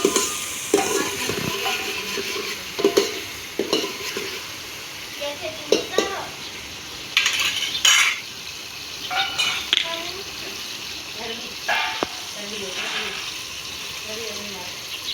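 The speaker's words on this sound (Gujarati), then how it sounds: "ઘણીવાર તેલમાં પકાવવા દેવાના છે." Food frying in hot oil in a pot for a green gumla recipe, a steady sizzle broken by repeated stirring scrapes and clinks from a utensil, close and fairly loud.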